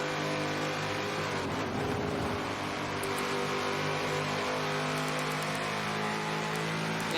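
Touring car engines race in a sim racing lobby, a loud, sustained multi-car drone with steady revving tones and a brief swell as another car passes close by.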